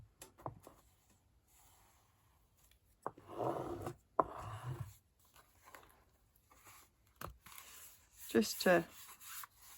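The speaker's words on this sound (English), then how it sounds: "I'm going to use a bone folder so I get it" A bone folder rubs and creases paper for a handmade December journal, making soft, intermittent scraping strokes that are quiet and close, with brief speech in between.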